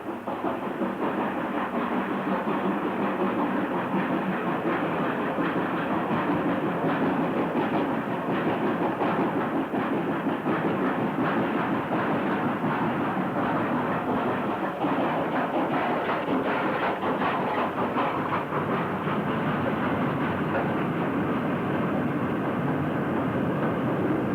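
WD 2-8-0 steam locomotive 90633 of Wakefield hauling a coal train in 1960s Yorkshire, a steady broadband rumble and roar of engine and rolling wagons holding at constant loudness throughout with no talk.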